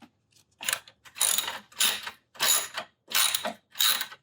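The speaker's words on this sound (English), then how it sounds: "Let's see if removing these 3 bolts allows me just to move this whole thing out of the way" A ratchet wrench loosens bolts in the engine bay of a 2000-2004 Toyota Avalon during starter replacement: six quick, close ratcheting bursts in a steady rhythm, with no talking.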